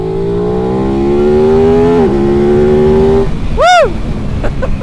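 Aprilia RS 660 sport motorcycle accelerating hard, close engine note rising through the revs, dipping at a gear change, then climbing again before cutting off, with a brief sweeping whistle-like tone near the end.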